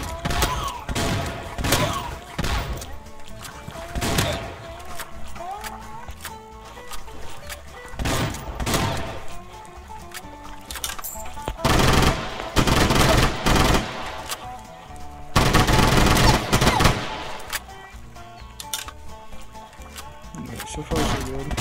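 Uzi gunfire in the Swamp Attack video game, repeated rapid bursts of automatic shots with brief pauses between them, set against game music, with a voice speaking at times.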